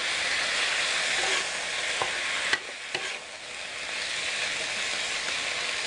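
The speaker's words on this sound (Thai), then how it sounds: "เราจะผัดกุ้งนะคะลงไป" Shrimp stir-fried in a hot pan with shrimp paste, a loud continuous sizzle and hiss close up with a few clicks of the utensil against the pan.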